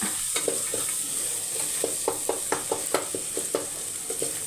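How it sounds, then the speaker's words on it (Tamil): Green peas sautéed in a pressure cooker for peas pulao: a steady, close sizzle with a rhythmic series of spoon scrapes and taps as the peas are stirred, with no voices. "ஒரு அஞ்சு நிமிஷம் பட்டாணி கோசம் ஒரு அஞ்சு நிமிஷம் நல்லா வதக்கி விட்டுக்கோங்க"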